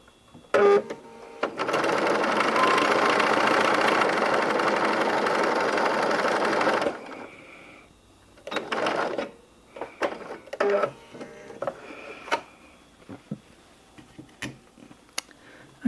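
A sewing machine stitches a seam on a dishcloth quilt block, running steadily for about five seconds after a brief start, then several short bursts of stitching with pauses and handling noises.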